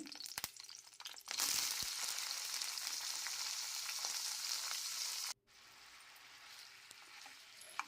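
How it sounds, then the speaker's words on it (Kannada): Tomatoes fry in hot oil with dried red chillies for a tomato and mint chutney, giving a loud, steady sizzle with a few stirring clicks. The sizzle cuts out abruptly and then settles into a quieter hiss. "ಟೊಮೊಟೊ ಎಣ್ಣೆಯಲ್ಲಿ ಫ್ರೈ ಮಾಡ್ಕೋಬೇಕು ಟೊಮೊಟೊ ಸಾಫ್ಟ್ ಆಗೋ ತನಕ ಎಣ್ಣೆಯಲ್ಲೇ ಈ ರೀತಿ ಫ್ರೈ ಮಾಡ್ಕೋಬೇಕು"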